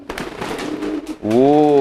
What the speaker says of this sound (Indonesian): Nah, ini betinaan si Joko nih